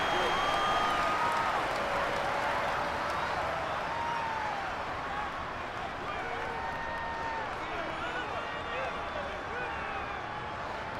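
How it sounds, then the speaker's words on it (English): Simulated stadium crowd in a Madden 24 Chargers vs Jets game, a steady broad roar with scattered whistles and shouts rising ahead of a big third down, continuous and fairly distant under commentary. "the crowd getting into it as we come up on a big third down"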